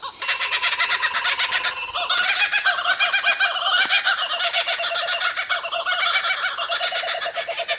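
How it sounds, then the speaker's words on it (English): Kookaburra calling outdoors near passion fruit vines, a loud continuous chorus of rapid rhythmic cackling and laughing notes sustained throughout, with other birdsong mixed in. "Kookaburra's happy."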